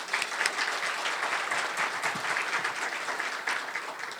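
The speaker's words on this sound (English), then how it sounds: "Let's give them all a round of applause." A luncheon audience gives a steady, moderately distant round of applause, dense clapping holding evenly throughout with no talking over it.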